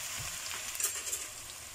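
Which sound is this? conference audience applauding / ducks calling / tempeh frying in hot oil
tempeh frying in hot oil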